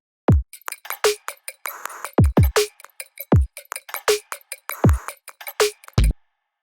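Punchy electronic kick drums in a repeating pattern, each hit trailed by a short fading burst of hissy noise bass, with a few quicker hits and crisp noisy ticks between the kicks.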